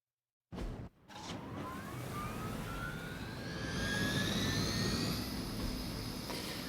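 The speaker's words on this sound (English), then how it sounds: "Disable the helicopter before it can depart." A helicopter in the video game Marvel's Midnight Suns starts up after a brief silence, building into a steady loud roar with rising whining turbine tones that swell toward the end, with no talking.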